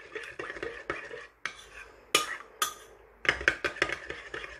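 A spoon stirs cold milk with instant cappuccino in a cup or bowl, scraping and clinking in quick bursts with brief pauses between, close and fairly loud.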